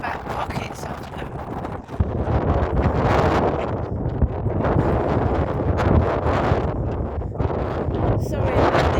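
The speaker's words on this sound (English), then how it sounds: "Sorry about this wind, I can't hear that" Strong wind buffets the microphone on an outdoor walk, loud continuous roaring gusts throughout, with a person talking underneath.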